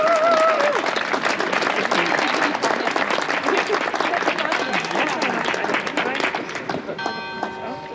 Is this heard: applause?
yes